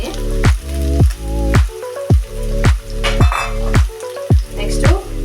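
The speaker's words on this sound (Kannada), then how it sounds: "ನೆಕ್ಸ್ಟ್ ನಾನು ಕ್ಯಾರೆಟ್ ಹೆಚ್ಚಿಟ್ಕೊಂಡಿದ್ದಲ್ಲ ಸಣ್ಣದಾಗೆ ಅದನ್ನ ಸೇರಿಸ್ಕೊತಾ ಇದ್ದೀನಿ" Chopped carrot tossed into a hot pan of frying vegetables for a chapathi veg spring roll filling, loud close sizzling broken by repeated rhythmic stirring scrapes and clatters, no voices.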